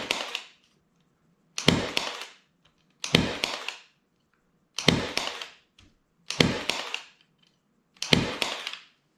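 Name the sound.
Milwaukee cordless 23 gauge pin nailer firing pins into wood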